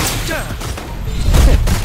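Gunfire volleys from the video game Wuthering Waves, a dense rattling barrage that swells louder toward the end, with game voices talking over it.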